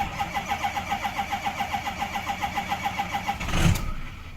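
A 2007 Ford F250 truck with the 6.0 diesel engine, cold started: a steady pulsing cranking-like rhythm runs for about three and a half seconds before the engine catches with a louder burst and settles, close and alone.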